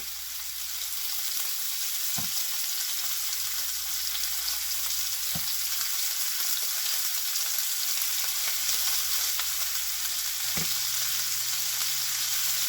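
Braciole meat rolls brown in a frying pan with a broad, even sizzle that holds steady at close range, punctuated by a few soft knocks as the rolls are moved, and no one speaks.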